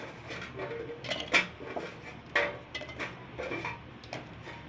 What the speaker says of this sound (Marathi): मी आता मिक्सरच्या भांड्यामध्ये शेंगदाणे टाकून घेते ह्या दहा बारा हिरव्या मिरच्या